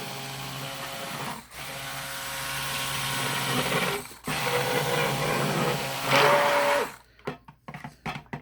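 A stick blender hums continuously through hot process soap batter for several seconds with a couple of short pauses, then cuts off, leaving a few scattered clicks and clatters.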